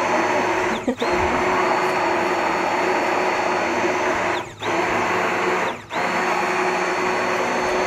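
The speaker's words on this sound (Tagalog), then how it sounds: "i-blend ko ng isa." Blender running steadily while making sugo fatta in casa, a loud continuous whirring motor with a few brief dips in power, close by and alone without talk.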